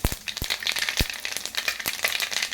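Cumin seeds crackle and sputter in hot oil in a pan, giving sharp irregular pops over a steady sizzle, close and fairly loud, with no voices.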